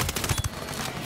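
A quick burst of automatic gunfire rattles in Ghost Recon Breakpoint, several rapid close shots in a tight cluster that then stop abruptly.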